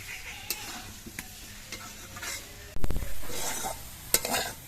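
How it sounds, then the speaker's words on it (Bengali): Pieces of maan kochu (giant taro) fry over low heat with a soft sizzle. A spatula taps and stirs intermittently, with a louder burst of sizzling and clattering midway and a sharp tap near the end. No talking. "আস্তে আস্তে জাল দিয়ে কচুগুলো ভাজলেই কিন্তু এমনিতেই কচুগুলো ভাজা হয়ে যাবে"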